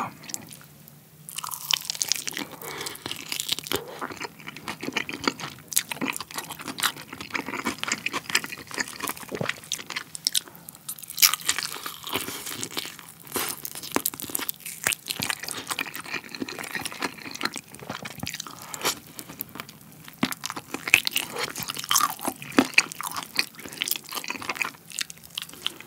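Someone eats fried chicken coated in a heavy, soft fish-fragrant sauce, with close, wet chewing and sticky smacking mouth sounds recurring irregularly throughout, and no talking.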